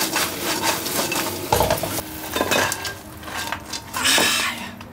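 A spatula scrapes and clatters around a nonstick honeycomb wok as crab and rice cakes are dished out, giving repeated close, loud metallic scrapes over a faint sizzle, with no talking.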